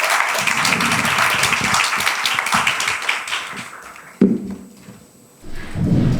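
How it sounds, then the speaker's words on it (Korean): Audience applause at an English academy information session, welcoming the next speaker: brisk, dense clapping for about four seconds that breaks off sharply, followed by a quiet pause and then a second short burst of clapping. "박수로 맞이해 주십시오."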